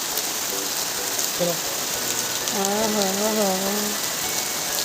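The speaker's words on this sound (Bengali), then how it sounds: "সুন্দর সুন্দর বৃষ্টি আর কি সুন্দর একটা হাওয়া।" Steady rain falls in a constant, fairly loud wash of patter, while a voice briefly hums or speaks over it.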